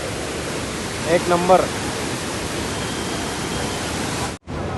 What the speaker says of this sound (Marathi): ते पाणी बघा किती मस्त उडतंय वरती हवेमध्ये.